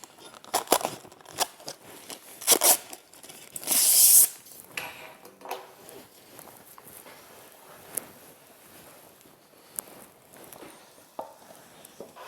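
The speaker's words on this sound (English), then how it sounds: "Gotta unwrap it like a Christmas present." Wrapped barn building material being unwrapped, with scattered crinkles and rustles, a louder burst of tearing wrap in the middle, then quieter intermittent handling noises close by.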